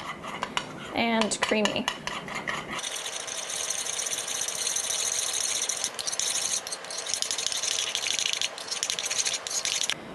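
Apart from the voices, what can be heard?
whisking vinegar dressing together in a bowl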